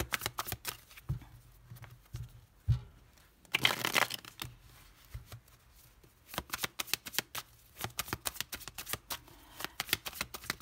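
Tarot cards are shuffled by hand in a series of crisp riffling and flicking bursts, some denser and longer, others short and snappy, close and fairly quiet with no voices.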